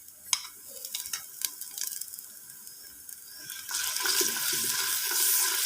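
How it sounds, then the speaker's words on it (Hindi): Onion and garlic-ginger paste fry in a pan for a capsicum salan, a faint scraping stir at first, then a steady close hiss and sizzle swelling louder over the last two seconds, with no talking. "प्याज और लहसुन अदरक के पेस्ट को थोड़ा सा फ्राई कर लेते हैं ताकि लहसुन अदरक की स्मेल ख़त्म हो जाए।"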